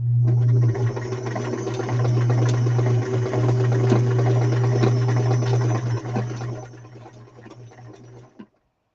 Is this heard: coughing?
no